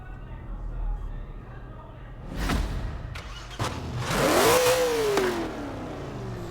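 A 1964 Ford GT40 Mk 1 in Forza Horizon 4 starts up, its engine catching and revving in a few rising bursts, with a whooshing sweep and a faint background hum.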